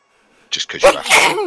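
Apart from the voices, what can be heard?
sneeze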